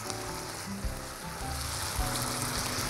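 Peeled tomatoes go into hot oil with onion, basil and garlic, setting off a dense, steady crackling sizzle heard up close, with a few soft stirring bumps.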